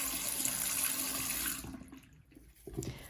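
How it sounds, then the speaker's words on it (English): Tap water runs steadily over makeup brushes being wetted and rinsed at a sink, a continuous close splashing hiss that cuts out midway, followed by brief soft handling sounds. "I'm just gonna wet the brushes and then go around and clean them and then rinse them off."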